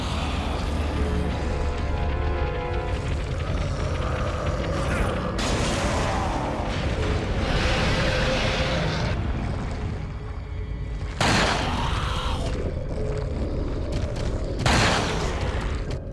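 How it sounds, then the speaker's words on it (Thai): In Resident Evil 4, gunshots and incendiary grenade blasts aimed at the U3 monster sound as a few sharp, loud bursts spaced apart over a continuous creaking, mechanical rumble in the game's ambience. "ของผมยิงไปสองนัด แล้วสลับด้วยระเบิดเพลิง"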